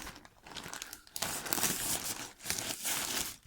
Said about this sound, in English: Let's open the plastic bag.